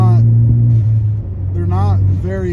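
A 2016 Ford Focus ST with its 252-horsepower engine hums steadily while driving, a low, loud drone running throughout, with someone talking over it for most of the stretch.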